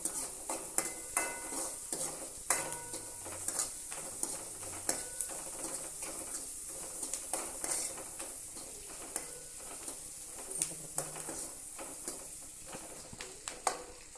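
Onions sautéing until golden in a pan, with a quiet continuous sizzle and frequent rhythmic stirring clinks and scrapes of a utensil against the pan, alone without talk.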